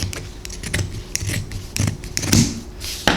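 Scissors snip and trim shirt fabric in a rapid series of close, crisp cuts, with rustling cloth between the blade closures.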